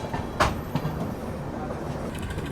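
A passenger train rolling into Prayagraj Shivki railway station in the evening: a steady rail rumble with a sharp clank early on and lighter clicks of wheels over track joints, fairly close and unbroken by talk.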